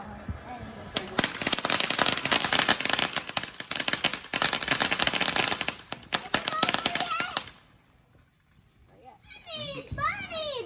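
July 4th fireworks crackle and pop in rapid dense bursts like gunfire for several seconds, then stop, followed by children talking excitedly nearby.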